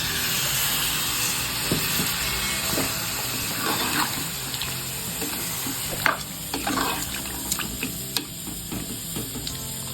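A country chicken curry hisses and sizzles in its pot as water goes in, with scattered stirring clinks and bubbling. The sound is close and moderately quiet, with no voices.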